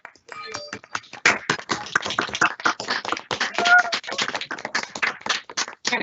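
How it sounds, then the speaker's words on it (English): Dense, close applause for an award winner, many hands clapping in a rapid uneven patter that keeps going, with some cheering mixed in. "There was some extra cheering there"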